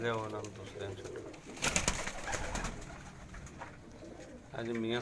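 Badshah breed pigeons coo close by in a breeder's loft at Jalalpur, low throaty calls rising over a burst of flapping and shuffling, with voices talking nearby.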